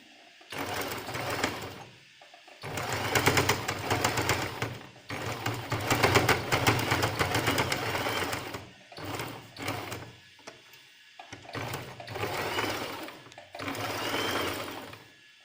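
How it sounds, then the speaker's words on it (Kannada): A home sewing machine stitches a cloth face mask in bursts of fast, whirring mechanical running separated by short pauses, close and loud, with no talk. "ನಾವು ಇನ್ನೊಂದು ಹೊಲಿಗೆ ಹಾಕ್ಕೊಳ್ಳೋಣ ಈ ಪಕ್ಕದಲ್ಲಿ."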